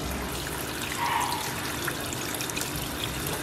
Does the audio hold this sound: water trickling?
yes